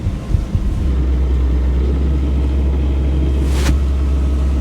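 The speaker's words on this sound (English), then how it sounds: "I can hear it on the gearbox now. It's working harder." A boat's inboard engine and gearbox running at about 2000 RPM with a new Gori folding propeller, a loud steady low drone and rumble that holds constant throughout, with one brief higher noise near the end.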